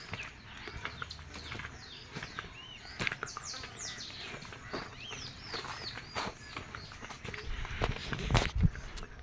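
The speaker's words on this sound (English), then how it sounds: "And now those are the beautiful sounds from the birds here." Birds chirp and whistle in repeated short calls around a cypress tree in the open countryside, steady and fairly near over a low outdoor background, with a few thumps and footsteps toward the end.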